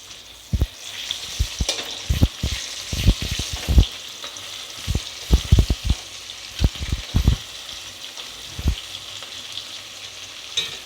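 Onions frying in hot oil with bay leaf and garam masala for a chicken curry: a steady, close sizzle broken by repeated sharp clatters and scrapes of stirring in the pan.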